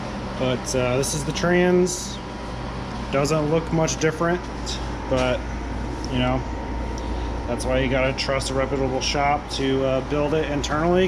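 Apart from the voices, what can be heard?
air conditioning unit running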